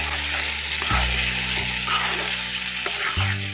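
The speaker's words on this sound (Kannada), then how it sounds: "ಇವೆರಡನ್ನು ಚೆನ್ನಾಗಿ ಮಿಕ್ಸ್ ಮಾಡಬೇಕು" Tomato gojju mixture sizzles steadily in a hot tempering pan while a spoon stirs it, a continuous close frying hiss with faint scraping strokes and no talking.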